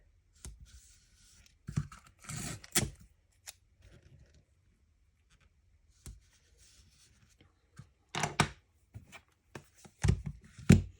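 Tape tearing and being pressed onto card stock in a card-making session, heard as a few brief crinkly rips and rustles spread across a quiet background, with long silent gaps between them.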